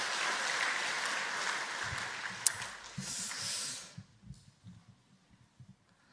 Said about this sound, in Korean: 우리 격려의 박수 한번 보내주시면 감사하겠습니다